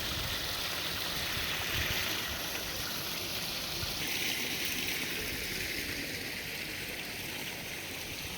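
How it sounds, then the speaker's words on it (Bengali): At Grand Sultan Resort in Sylhet, a waterfall pours in a steady, even rush of water, a constant broadband hiss with no pauses and no voices. "ঝর্ণার পানির শব্দ"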